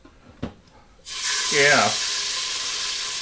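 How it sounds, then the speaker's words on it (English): Pork hits hot oil in an Instant Pot and breaks into a loud, steady sizzle that holds for the rest of the moment, preceded by a couple of soft handling knocks. "you want to brown this about 2 minutes on each side"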